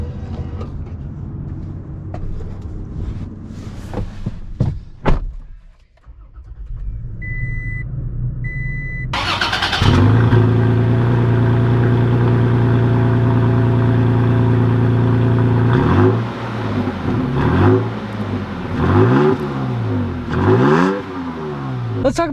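A lifted 2020 Toyota Tacoma Limited idles, then its engine starts with a burst and settles into a loud steady drone before several rising revs on acceleration, close and without talk.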